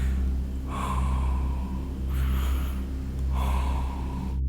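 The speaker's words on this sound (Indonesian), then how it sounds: "tiba-tiba ada suara nafas kayak yang berat banget" Very heavy breathing, three slow, deep, raspy breaths rising and falling, comes from inside a tent on a mountain. Each breath is drawn out and close over a low steady hum, with no voices.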